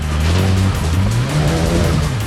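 A Renault Clio rally car, not running at its best, drives hard on a special stage, its engine note rising and falling through gear changes with loud close-up revving and tire noise, without voices.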